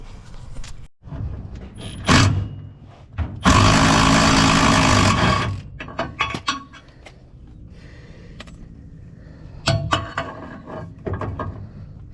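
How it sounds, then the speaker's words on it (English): Short rattling bursts from a half-inch impact wrench knocking out cab mount bolts under a 1953 Chevy 3100 on an S10 frame, one long buzzing run in the middle, amid clanks and shop noise close by. "use the 1/2-inch impact and just knock it out"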